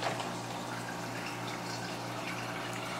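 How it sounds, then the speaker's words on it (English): Water draining steadily from a portable twin tub washing machine out through a hose into a drain, a continuous close rushing, trickling flow over a low pump hum, with no speech. "And then the water simply goes out through the other hose into the drain."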